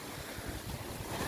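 Rough sea waves surge and wash in a steady roar, with heavy wind buffeting the microphone. A large ship sits offshore. The surf and wind noise are loud and continuous throughout, and there is no talk.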